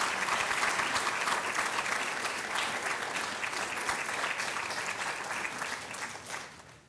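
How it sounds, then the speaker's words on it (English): An audience at a nursing college white coat ceremony gives a sustained round of loud, dense clapping that holds steady and then tapers off at the end. "I would like all of the new students to turn around and get a round of applause to the people that have joined you"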